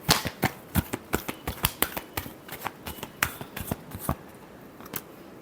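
Tarot cards being shuffled by hand, a quick run of crisp riffling snaps and flutters, close and fairly loud, with no voices.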